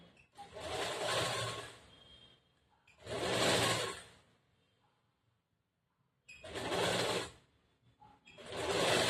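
Domestic sewing machine stitching a plain blouse in a tailoring lesson, running in three or four separate bursts of a couple of seconds each with short quiet pauses between, fairly close and steady, with no talking.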